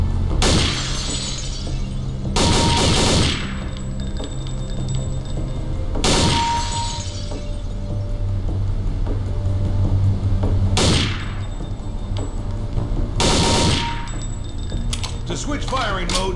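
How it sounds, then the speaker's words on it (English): Short controlled bursts of gunfire at targets on the Counter-Strike: Condition Zero training course, with four or five loud, sharp bursts spaced a few seconds apart over steady background ambience. "use short controlled bursts to ensure accurate targeting. Engage three targets to continue."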